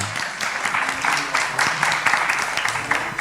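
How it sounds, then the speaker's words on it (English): A seminar audience applauds for several seconds, a dense, steady wash of many hands clapping at moderate loudness with some speech mixed in. "Give applause, please."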